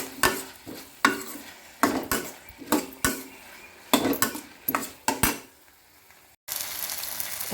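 Onions and tomatoes sauté in a pan for cauliflower gravy, with repeated close scraping strokes of a spatula against metal in an uneven rhythm, then a brief gap before a steady soft sizzle.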